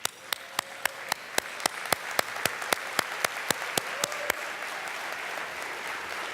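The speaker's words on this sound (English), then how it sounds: "Please stand and give them a round of applause." An indoor audience applauds board members and advisors of a senior service organization at an awards event, with sharp close claps in a steady rhythm over a dense wash of crowd clapping.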